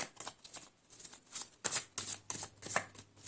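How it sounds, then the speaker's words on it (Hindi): Tarot cards handled and drawn from a deck, a series of quiet, close riffling and snapping card sounds in short bursts. "Let's take 4 more cards."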